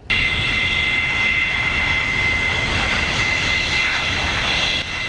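A military combat aircraft flies past during an air force parade, its loud, sustained engine roar with a whining jet tone filling the whole stretch before easing slightly at the end.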